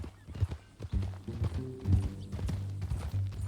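Horse hooves clip-clop at a steady walking rhythm in Red Dead Redemption 2, close and moderate in level, with tack and gear rattling alongside the footfalls.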